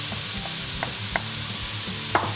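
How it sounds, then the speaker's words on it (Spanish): Grated zucchini sautéing in a frying pan, a steady soft sizzle with a few light scraping stirs of a utensil against the pan, close and alone without talk. "ahora lo vamos a saltear un poco en la sartén para que se quede blandito"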